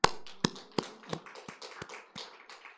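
Hands clap in a church during a Friday night prayer service: a handful of separate, sharp claps in a slow, uneven rhythm, close and fairly crisp, with quieter patter between them.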